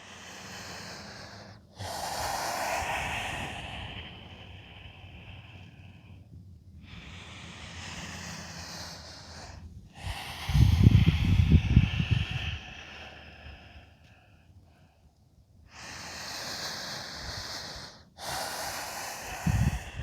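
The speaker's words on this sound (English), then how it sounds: "Getting comfy and taking a few breaths here." Slow, deep breathing during a yoga downward dog pose: long audible inhales and exhales with breathy, snorting nasal texture, close and fairly quiet, repeating in an even rhythm.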